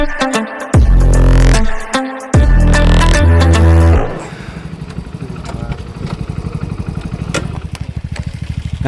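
A motorcycle ridden on a hill road past tea gardens near Lankapara, via a shortcut through Hasimara. The engine revs loud and close in surging bursts for about four seconds, then settles into a steadier, quieter running drone.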